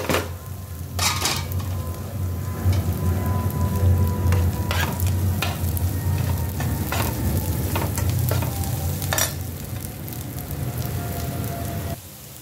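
Garlic, onion and chili sizzling and frying in a pan while being stirred, a steady loud crackle broken by repeated scraping and clanking of the spoon against the pan.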